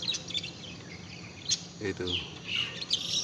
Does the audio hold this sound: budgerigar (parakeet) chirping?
yes